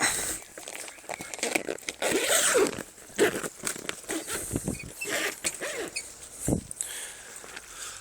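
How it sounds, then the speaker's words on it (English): A clothing zipper is worked open with one hand in a warm, humid chilli-plant greenhouse, with several rasping pulls, fumbling and rustling close by. "as I try and do the zip with one hand, which isn't the easiest thing you can do"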